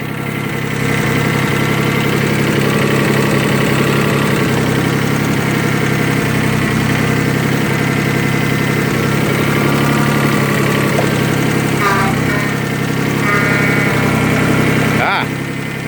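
A Kubota B20 compact tractor's engine idles steadily out of gear, a loud, constant rumble with a mechanical hum that barely changes throughout.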